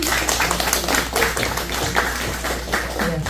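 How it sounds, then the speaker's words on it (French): Scattered applause from a small group, a steady patter of claps with a few sharper hand taps, fairly close, lasting a few seconds. "Un applaudissement pour elle."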